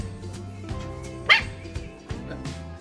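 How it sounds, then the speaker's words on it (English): A dog gives a couple of sharp barks with pauses between them, close by, over a low steady background hum. "Here's Rosie, barking away and waiting for supper"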